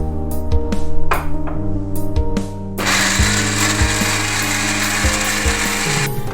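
A kitchen mixer grinds spice paste for a prawn marinade, a loud continuous whirring motor grind with thumping knocks, running steadily without speech.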